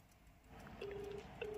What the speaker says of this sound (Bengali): রিং হচ্ছে, দেখা যাক কি হয়।